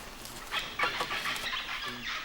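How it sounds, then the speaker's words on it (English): Scratchy, squawking parrot calls come and go in short bursts, somewhat distant against a soft outdoor jungle background in Guatemala. "Can you hear the parrots?"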